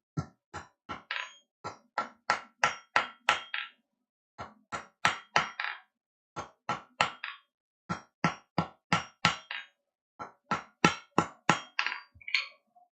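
Rapid series of sharp strikes from an old Plumb hammer on metal, ringing out in quick bursts with brief pauses between groups, close and loud.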